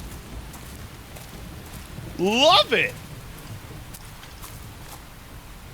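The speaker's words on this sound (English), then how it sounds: "The rain's starting to let up, just in time for sunrise." Steady, even rain hiss from the video game Xenoblade Chronicles X runs throughout, with a short burst of a spoken voice partway through.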